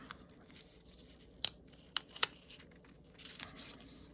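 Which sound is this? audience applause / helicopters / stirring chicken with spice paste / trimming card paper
trimming card paper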